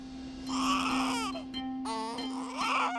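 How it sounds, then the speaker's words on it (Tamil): A baby wails loudly and close by in a TV drama scene, crying in two strained bursts with a short breath between them, alone with no talking. "இங்க பாருங்க, என் குழந்தை உள்ள அழுதுட்டு இருக்கான்."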